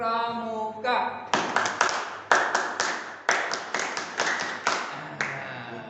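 A crowd doing the Indonesian scout clap (tepuk pramuka) at a church gathering: a voice leads it off, then a patterned sequence of loud, fairly synchronized group claps in short groups, ending with speech resuming.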